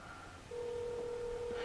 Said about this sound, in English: while I dial the number, I'm going to call my AT&T phone